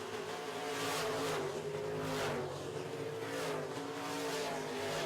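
Dirt track modified race cars roar together through a heat race, a dense, steady engine drone with layered harmonics and rising and falling revs, loud and continuous with no talking.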